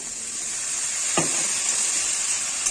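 Water is poured into fried spice paste in a pan for a katla fish curry with potato and tomato, raising a steady, even sizzle and hiss with one brief knock partway through.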